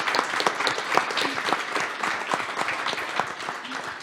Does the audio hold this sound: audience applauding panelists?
yes